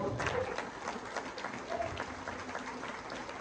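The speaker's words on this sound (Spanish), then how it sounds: "Den un aplauso al Señor." A church congregation claps in praise during a Spanish-language sermon, a dense, steady round of applause from a medium-sized crowd lasting a few seconds, with faint voices mixed in.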